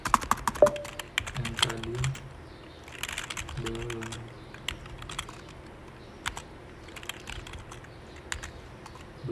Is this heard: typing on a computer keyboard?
yes